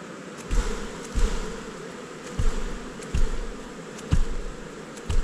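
Honey bees in a hive of about 50,000 drone in a continuous buzzing hum, broken by soft, regular thuds from handling close by.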